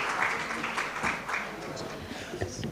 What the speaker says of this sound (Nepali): सबैजनाले लामो ताली बजाएर स्वागत गर्दै